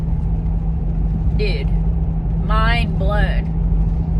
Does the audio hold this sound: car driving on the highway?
yes